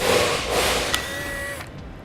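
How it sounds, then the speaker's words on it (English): A power driver with a square bit backing screws out of a trailer clearance or side marker light: a close, steady whirring motor drone for about a second and a half, then a sudden stop. "we need to back the screws out"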